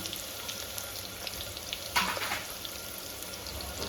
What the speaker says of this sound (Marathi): आता आपण व्यवस्थित परतवून कांदा आपला छान छानपैकी ब्राऊन झालेला आहे